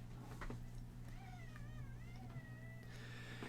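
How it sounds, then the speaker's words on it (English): A cat meows at the door with a long, wavering, drawn-out call over a steady low electrical hum, fairly faint and with no talk. "I got a cat at the door."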